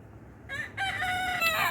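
A rooster crows loudly and close in a backyard chicken area beside a garden, one drawn-out cock-a-doodle-doo call lasting under two seconds.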